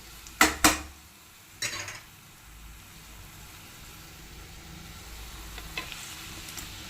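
Eggs hit a hot spiced pan for a simple egg fry, two sharp metallic clanks, then another scrape as they are stirred, followed by a soft, steady sizzle of frying with one small clink near the end.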